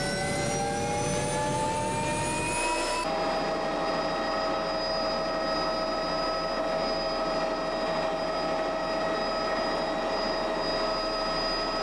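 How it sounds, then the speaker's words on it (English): A helicopter's steady, loud engine whine and rotor drone in the Stein Valley, British Columbia, with a shift in pitch early on before settling into a constant roar. "The helicopter arrives promptly at 8 o'clock."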